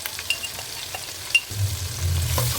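Spices with ginger garlic paste frying for chicken pulao, a soft sizzling hiss in the pan with occasional light stirring clicks, a louder low bubbling entering halfway through, no voices.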